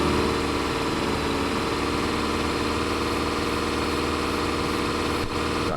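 A tractor engine in Farming Simulator 25 drones steadily while pulling a good-sized plough across a field, a continuous loud, even rumble with no voices.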